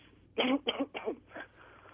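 A short burst of coughing, three or four quick harsh coughs close to the mic, then a fainter trailing cough in a quiet room.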